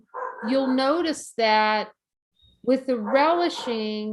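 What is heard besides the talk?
dog barking outside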